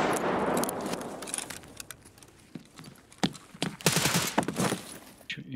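Rapid bursts of gunfire in Escape from Tarkov crackle at mid distance, with sharp shots clustered in quick succession over a noisy background.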